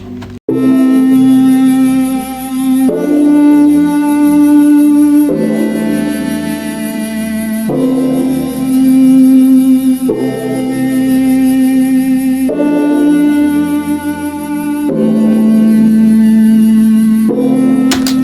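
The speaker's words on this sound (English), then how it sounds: "the flute together with the chord sounds like this" A breathy synthesized flute melody plays over sustained chords that change every few seconds, with a smooth, steady and fairly loud sound.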